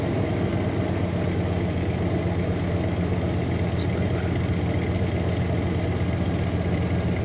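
The 4.7L V8 of a 2001 Dodge Dakota idles after a cold start, a steady, even engine hum and rumble heard close and continuous with no voices.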